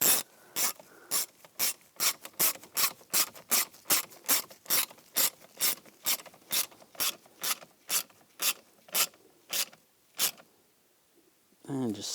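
A ratchet drives a screw into the door actuator of a 2010-2017 Chevrolet Equinox, giving about twenty crisp evenly spaced clicks, close and loud, then a short pause before a voice begins.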